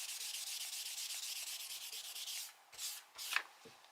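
Coloured pencil pressed hard onto paper at a desk, a steady close scratchy rubbing with rhythmic strokes, ending in a few separate scrapes and small knocks as desk items jangle.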